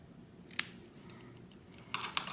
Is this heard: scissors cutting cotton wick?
yes